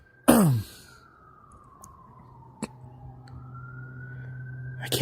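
A police car siren wails faintly in the distance, its tone slowly falling and rising as it approaches, with a sharp cough and scattered clicks up close.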